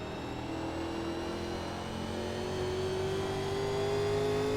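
Race car engine from the 1987 NASCAR Legends car in iRacing at the Milwaukee Mile, a steady loud drone with a slowly rising pitch as it accelerates, heard alone with no talk.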